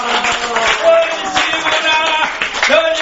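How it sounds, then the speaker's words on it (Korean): Church congregation clapping for a pastor at a mission society general assembly, dense and steady throughout, mixed with raised voices and cheering over it. "힘찬 박수를"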